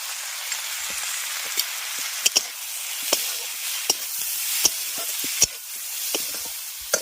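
Chopped tomato with turmeric and chili powder sizzles in a silver handi pot for chicken, a steady hiss broken by sharp, intermittent clicks of stirring, with no voices.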